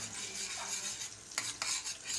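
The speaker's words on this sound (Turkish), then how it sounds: "Makarnamızı iyice karıştıralım" Pasta is stirred in a pot with a utensil, a soft continuous scraping and sizzling close by, broken near the end by two brief, brighter clinks of metal against the pan, with no one speaking.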